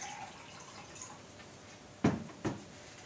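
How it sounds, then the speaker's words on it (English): Water splashes into caffeine powder in two short, close pours separated by a brief pause, over a quiet room background. "now the only thing left for me to do is to add some water"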